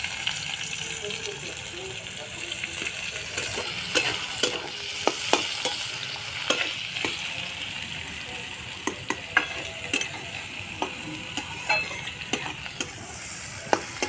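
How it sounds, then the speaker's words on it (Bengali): Chopped onion hits hot oil with cumin seeds and bay leaf, a steady close sizzle broken by sharp clicks of a spoon stirring the pan, with a voice faintly in the background. "জিরে তেজপাতাটা একটু ভাজা ভাজা হয়ে গেছে কুচি করে রাখা পেঁয়াজটা দিয়ে দেবো"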